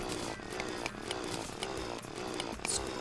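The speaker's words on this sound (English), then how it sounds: "Let's drill our way around here." A drill grinds through mithril ore in the video game Terraria, a continuous buzzing whine with rhythmic pulses and small crunching breaks, steady and moderately loud, no talking.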